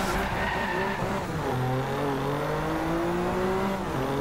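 A BMW M4 drifts in the racing game Driveclub, its tires squealing in long, wavering tones over a steady, loud engine drone.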